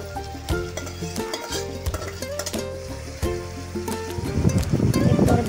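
Chicken legs sauté in hot oil in a pan, giving close, steady sizzling with stirring scrapes and clinks throughout and no talk.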